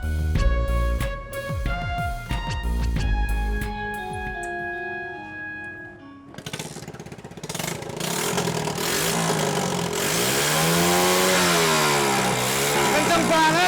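Two-stroke motorcycle engine revving up close, rising and falling in loud repeated throttle blips as the revs swing, with people talking nearby.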